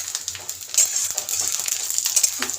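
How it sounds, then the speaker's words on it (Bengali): Moong dal frying in oil with black cumin in a pan, a close bright crackling sizzle with scattered scraping and stirring sounds throughout. "এবার মুগ ডালটা একটু ভেজে নেব।"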